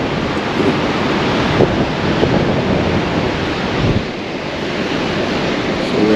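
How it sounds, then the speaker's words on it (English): Strong wind buffets the microphone over a steady roar of ocean surf at a beach lookout in Ballina, New South Wales, Australia. The noise is loud and continuous, with no voices. "I really want to test the audio and the wind."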